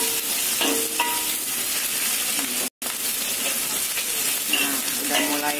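Chili sautéing in hot oil while making a dages and combrang stir-fry: a loud, constant sizzle with scraping stirs, briefly cut off by a short silence midway, with faint talk in the background.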